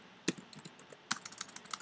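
HTML code typed on a computer keyboard, quiet close clicks of individual keystrokes in two short bursts, with no talking.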